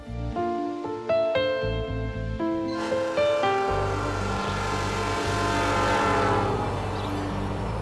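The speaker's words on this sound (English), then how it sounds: "You can still hear the trains as they pass through the small town of Opelousas." A train passes through the small town of Opelousas, its horn sounding in repeated blasts over a heavy, continuous rumble of wheels and cars, loud and close, with no talk.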